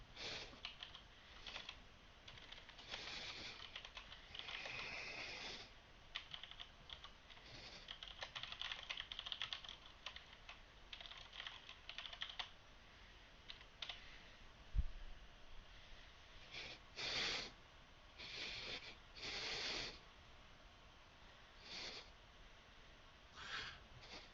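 Rapid keystrokes on a computer keyboard come in short, uneven bursts with pauses between them, fairly close and quiet, with a soft thump near the middle.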